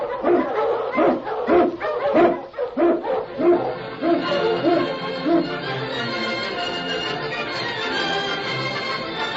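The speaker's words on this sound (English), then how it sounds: "King, the swiftest, strongest of Eskimo lead dogs, blazes the trail through storm and snow" Several Eskimo sled dogs bark and yip in quick repeated bursts, fairly close, then fade into a steady mix of whines and sustained tones.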